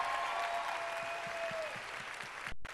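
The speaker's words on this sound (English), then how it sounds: "give her a round of applause" A convention crowd applauds a guest on stage, a brief patter of clapping fairly quiet and steady, cut by a short gap near the end.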